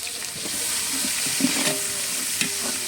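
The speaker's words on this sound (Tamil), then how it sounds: "வெங்காயம் கொஞ்சம் நல்லா வதக்கணும்." About a kilogram of onions sautéing in oil for a special biryani makes a close, continuous sizzle with light stirring scrapes throughout.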